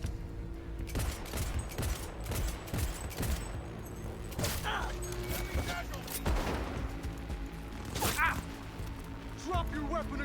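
Bursts of gunfire crackle through a firefight in the video game Cyberpunk 2077, with repeated sharp shots and rapid volleys landing in uneven clusters across the scene, some close and loud, mixed with mechanical clanks and impacts, and a voice speaking over the shooting.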